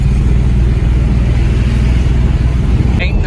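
A car crossing a city bridge in light traffic gives a steady, loud low engine and road rumble throughout, with a brief higher tone near the end.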